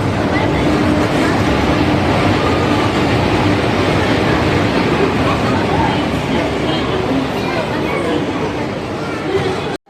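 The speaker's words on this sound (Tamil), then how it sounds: "நாகர்கோயில் எக்ஸ்பிரஸ் கிளம்பிருச்சிங்க" The Nagercoil Superfast Express, hauled by an Erode-shed WAP-4 electric locomotive, pulls out of a crowded station. Its continuous heavy rumble and rolling noise mix with platform chatter for the whole stretch.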